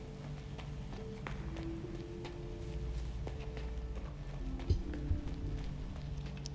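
A horse's hooves clip-clop steadily at a quick gallop in King's Bounty II, a fantasy video game, with a light, continuous rhythm and a couple of sharper thuds near the end.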